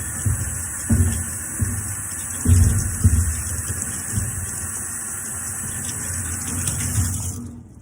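Water sprays steadily onto both sides of a window screen, rinsing soap off during cleaning at home, with a constant hiss and a few louder gushes and splashes close by.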